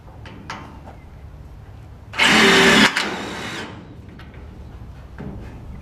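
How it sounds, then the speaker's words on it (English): A power driver sends screws through the top of a wooden fence post extension, a single loud, close whirring burst lasting under a second, with quiet background before and after. "two screws through the top to stop it from rattling"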